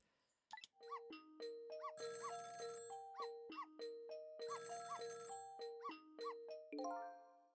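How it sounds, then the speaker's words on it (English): A telephone rings next door in the Ghost Trick video game, heard as a bright electronic chiming jingle repeating in a steady pattern over several seconds, alone with no talk. "It's the sound of a telephone ringing."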